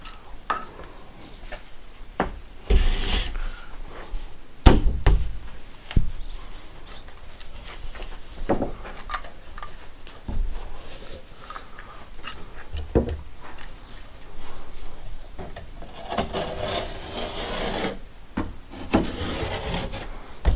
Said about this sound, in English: So now it's scored, I can score a little bit deeper